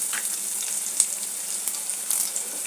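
Mustard seeds, cumin, hing and onion sizzle in hot oil, a steady bright hiss with a few faint crackles and pops, close by and alone.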